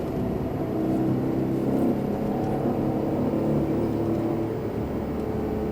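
An Aston Martin Vantage F1 Edition accelerating on a racetrack, its engine note a steady, continuous drone heard from inside the car, holding fairly even in loudness throughout with no talk over it.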